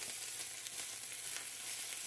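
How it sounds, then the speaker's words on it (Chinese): Battered chrysanthemum greens frying in a generous layer of olive oil in a pan, giving a steady, close crackling sizzle with no pauses and no voices. "好，把底部煎熟就可以翻面。"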